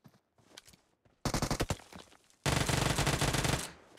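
Automatic gunfire in PUBG Mobile, starting with scattered shots, then a loud burst and a sustained rapid stream of close, rattling rounds that fades at the end.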